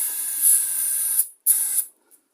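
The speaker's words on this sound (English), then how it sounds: "We'll just spray some down in there." Carb cleaner sprayed into a small engine: two close, sharp aerosol hisses, the first long and the second shorter, each cutting off abruptly with a pause between.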